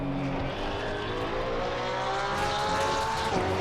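Porsche 992 GT3R race car accelerating in Assetto Corsa Competizione at Valencia, a steady loud engine tone rising in pitch through the gears, with a brief shift dip, heard close and alone.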